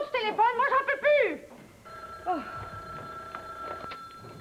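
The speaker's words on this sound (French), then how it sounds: "Sylvie, occupez-vous donc du téléphone" A telephone rings with a trilling bell tone that starts partway through and hangs on steadily, following bursts of voices and laughter at the start.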